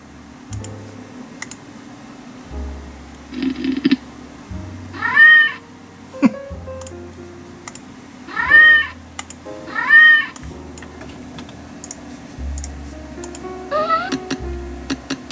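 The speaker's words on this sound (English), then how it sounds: "we'll make the cat meow by closing without saving." A cartoon cat in Silver Bullet 2000 software meows several times, short rising mews in bursts between quiet stretches, with ticking clicks and low hum around them.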